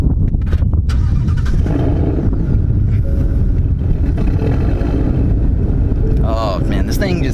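A 2018 Ford Mustang GT V8 drones loud and close as the car drives, with heavy low rumble, wind noise and someone talking over it.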